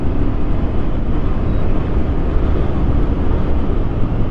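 A Royal Enfield Continental GT-650 motorcycle riding at speed on a highway at night, a loud, steady roar of engine and wind rushing past the helmet, constant and unbroken.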